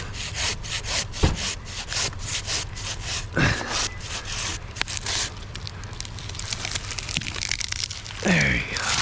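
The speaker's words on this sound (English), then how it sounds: "I'll just handsaw this off here." A hand saw cuts through a small birch branch during a tree takedown, a steady run of rasping back-and-forth strokes up close with a few sharper snaps and rustles.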